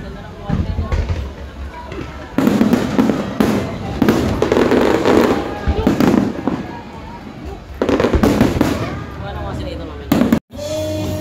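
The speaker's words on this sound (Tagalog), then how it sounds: "Yung fireworks display nga pala guys, every Saturday yan" Repeated booming fireworks bursts with crackling, continuing in loud waves and brief lulls, with a crowd murmuring in the background, at the H2O Hotel by Manila Ocean Park.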